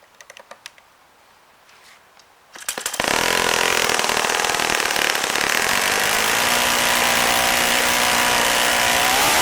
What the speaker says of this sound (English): that's a pretty decent idle RPM, but it's really rich still